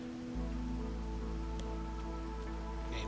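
Rain falls steadily in the video game Against the Storm, a continuous hiss of drops over a low hum and soft tonal game music, with no talk.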